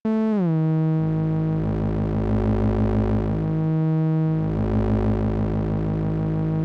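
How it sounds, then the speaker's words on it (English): A buzzy synthesizer oscillator tone, its pitch locked to the modulator's pitch, drops in pitch at the start, then holds steady while its timbre shifts and pulses with modulation, loud and continuous. "The pitch is locked to the modulator's pitch."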